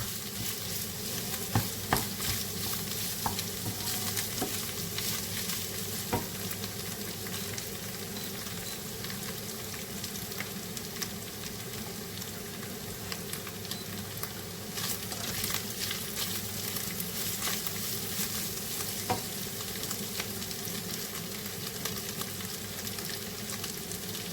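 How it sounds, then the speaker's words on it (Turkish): Minced meat and onions frying in a pan, a continuous close sizzle broken by repeated sharp scrapes and taps of a spoon stirring, moderately quiet and without speech. "önce soğanımla kıymamı güzelce kavurdum arkadaşlar"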